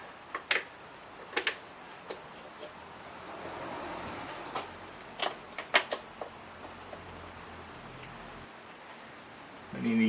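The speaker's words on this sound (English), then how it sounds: "put the bolts back in, and I'll torque these down" A torque wrench tightens valve cover bolts on a 2003 Infiniti G35 or Nissan 350Z VQ35 V6 engine, giving a series of faint, close clicks in uneven bursts with quiet gaps between them.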